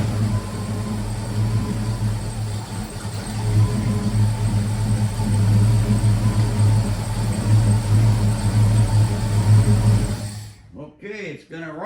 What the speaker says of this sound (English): Hey, it's running. It was running. A little more gas here.